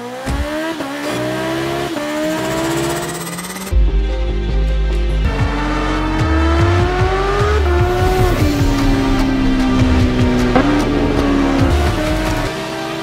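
A manual-gear motorcycle starts and rides off, its engine revving in rising and falling sweeps, loud and close, with a sharp jump in level a few seconds in.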